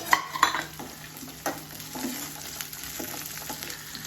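Shallots stirred in a non-stick pan with a steel ladle, light metallic scrapes and clinks over a gentle sizzle, irregular strokes close by, no talking.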